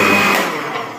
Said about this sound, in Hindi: ये देखें, इसको मैं चलाने लगा हूँ ब्लेंडर को